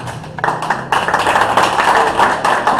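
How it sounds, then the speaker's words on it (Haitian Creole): Warm applause from an audience at a televised French-language discussion on judicial reform, a dense run of clapping that starts softer, swells near the second mark and carries steadily to the end. "Applaudit de manière très chaude."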